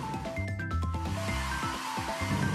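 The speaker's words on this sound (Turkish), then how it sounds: "Süpürge komik bir ses çıkarıyor." A comic cartoon vacuum cleaner on a toy red car sputters and whirs with bouncy, wobbling tones, a playful gurgling run of sliding pitches over a low hum, moderately loud.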